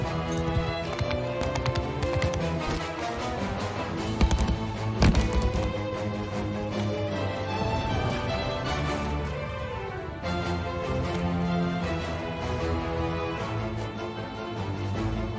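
Horse hooves pound in Mount & Blade II: Bannerlord, a busy galloping clatter of many hooves over a dense battle din of clashing and shouting, loud and continuous throughout.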